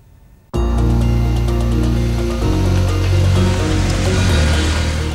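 Steady rain falls over Delhi on a cloudy day, a dense continuous hiss and patter that starts abruptly and stays loud and even throughout, with no voices.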